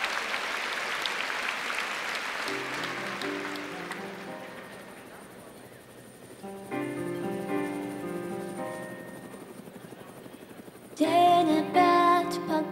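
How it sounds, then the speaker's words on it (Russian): Audience applause at a televised concert, a dense clapping wash that thins as music with sustained tones enters and builds, then swells louder near the end. "Ваши аплодисменты."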